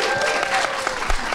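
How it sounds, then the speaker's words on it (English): A live audience at a Halloween special hall-of-fame event bursts into steady, dense applause that fills the room, heard close and without a break throughout. "Let's have a round of applause"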